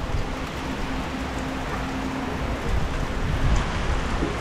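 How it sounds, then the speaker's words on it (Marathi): Steady, dense hiss of heavy monsoon rain falling without pause at Kamathe railway station in Konkan, a broad wash of noise with a slight low rumble building toward the end. "कामठेमध्ये आल्याच्यानंतर जोरदार पावसाला सुरुवात झाली"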